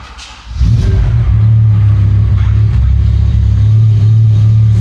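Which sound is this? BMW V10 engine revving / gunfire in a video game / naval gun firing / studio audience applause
BMW V10 engine revving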